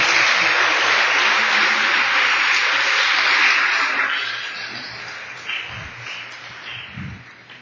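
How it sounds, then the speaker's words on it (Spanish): A church congregation applauds after a sermon on the parable of the sower, sustained dense clapping that fills the room and then fades away, with a few voices breaking through as it dies down. "dele un gran aplauso al Señor por su palabra"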